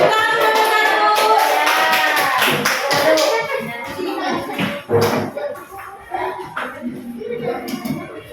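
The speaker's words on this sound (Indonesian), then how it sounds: "Tepuk tangan dulu kelompok satu." Children in a classroom clap for a group called up front, a dense burst of applause that thins out into scattered claps, with voices talking in the room.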